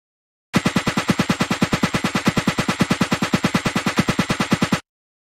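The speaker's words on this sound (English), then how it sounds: "High square sound." A high square-wave synth layer from a percussion and effects sound design plays as a fast, steady train of evenly spaced pulses for about four seconds, loud and alone, then stops abruptly.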